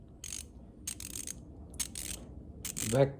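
A Craftsman made-in-USA 1/4 inch ratchet clicks in short bursts of quick pawl ticks separated by pauses, close and fairly quiet.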